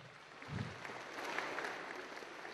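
Audience applause from a crowd at a live comedy show, a steady wash of clapping that swells briefly near the start and then holds at an even, fairly loud level throughout.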